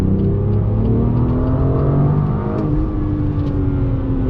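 A 2018 BMW M2 engine pulls hard in second gear on a track, a loud, steady, close-up mechanical roar and whir that holds strong throughout with no talking over it.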